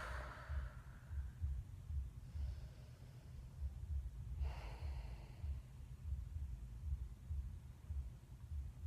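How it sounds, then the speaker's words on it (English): Soft, close breaths drawn in and let out slowly during a relaxation pause in a mobility session, with a few airy exhales rising above a quiet low background hum. "Breathe and relax here."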